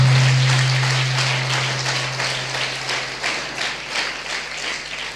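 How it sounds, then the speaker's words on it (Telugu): A church congregation applauds together during a Christian sermon, a dense wash of many hands clapping loudly at first and then thinning toward the end, with a low steady hum beneath. "కొట్టాలి గట్టిగా చప్పట్లు."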